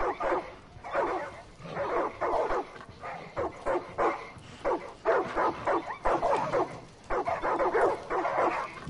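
Several dogs bark in repeated bursts of excited yips and bow-wows, fairly close and continuous across the stretch, with occasional whimpers between volleys and no talking.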